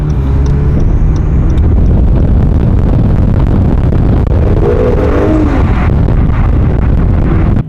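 A K-swapped Acura NSX running on pump gas with no ethanol, making about 573 horsepower, roars loudly and steadily up close, its engine note rising and falling in a single continuous pull.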